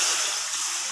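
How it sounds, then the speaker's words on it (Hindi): A glass of water is poured into half a kilo of jaggery in a wok, making a steady, close splashing rush that lasts the whole moment. "इसमें मैं वन ग्लास पानी"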